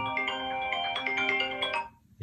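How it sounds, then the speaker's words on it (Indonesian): A mobile phone rings with an incoming call, a steady electronic melodic ringtone playing loud and clear for about two seconds before cutting off. "Gue ditelepon, mohon maaf kalau ada berisik-berisik telepon ya."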